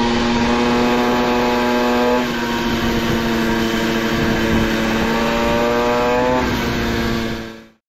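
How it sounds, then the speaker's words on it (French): A small engine is revved to about half throttle, a loud, steady droning roar that dips in pitch partway through, climbs again, then cuts off abruptly at the end. "Voilà, j'accélère à peu près moitié."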